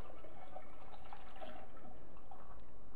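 Swirled liquid yeast poured through a sanitized funnel into a glass carboy for brewing chocolate stout, a steady gurgling pour of liquid heard throughout without talk.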